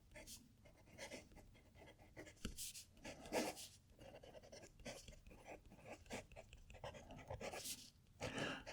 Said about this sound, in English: So let's write with this.